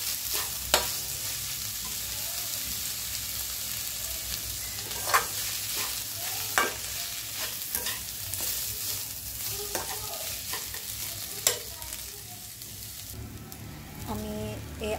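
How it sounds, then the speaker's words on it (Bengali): Rice lightly fried in a pan for pulao, with a continuous close sizzle and periodic sharp scrapes and clicks of a spoon stirring the grains over about fifteen seconds. "এগুলো চাউলগুলো একটু ভেজে নিব, একটু হালকা ফ্রাই করে নিব, যাতে"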